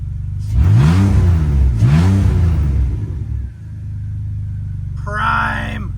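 A BMW E46 coupe with an open header, its idle control valve just installed, revs hard twice in quick succession, then settles into a loud, steady, rumbling idle close by.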